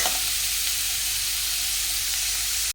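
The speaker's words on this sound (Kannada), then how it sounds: "ಈರುಳ್ಳಿನ ಸ್ವಲ್ಪ ಫ್ರೈ ಆಗೋ ತನಕ, ಅಂದರೆ ಸ್ವಲ್ಪ ಕಲರ್ ಚೇಂಜ್ ಆಗೋ ತನಕ ಫ್ರೈ ಮಾಡ್ಕೋಬೇಕು" Onions fry in a pan for uppittu with a brief, loud, even sizzle and hiss that runs steadily before cutting off abruptly.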